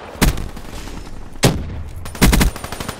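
Gunfire in a first-person shooter video game, three loud, close bursts of shots separated by short pauses, with lighter game noise between them.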